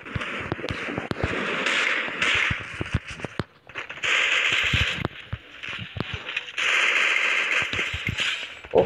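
Desert Eagle pistol shots in a mobile shooting game, rapid sharp cracks and clicks scattered among bursts of other game gunfire and effects, loud and close.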